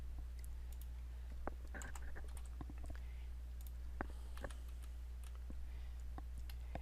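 Faint computer keyboard typing while code is cut and pasted, with short irregular bursts of quiet clicks and taps spread across a hushed room.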